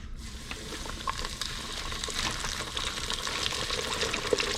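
Fresh-caught fish frying in hot grease, a dense, continuous sizzle with crackling pops, close and fairly loud, with no talking.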